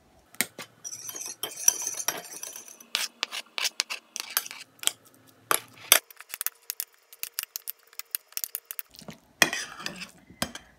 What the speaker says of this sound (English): I'm going to mix all these ingredients together and then throw in those chives and the salmon.